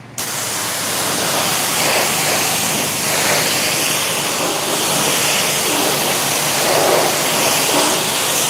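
Council K10 pressure washer spraying water onto a car, a steady, loud, continuous hiss and rush of the jet with slight swells as it moves across the bodywork, no voices.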